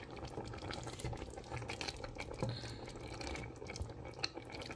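Water is poured into a pot of simmering chicken caldereta with fried potatoes and carrots, a steady soft splashing and bubbling heard close up with no talking.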